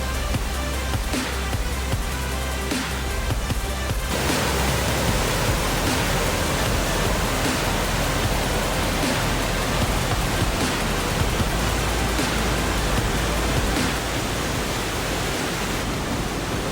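Waterfall roaring steadily as a broad, dense rush of falling water, loud and unbroken throughout, with a slight jump in level after the first few seconds and no talking over it.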